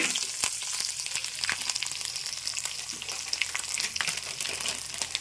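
Curry leaves crackle and sizzle in hot oil while tempering vakkaya pachadi, a dense, steady frying hiss with scattered sharp pops running throughout, close and fairly loud, no voices.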